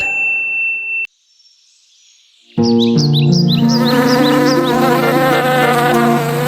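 A cartoon bee buzzes in a Turkish children's song about bees, with short chirpy buzzing accents over a bright, steady musical backing after a brief pause.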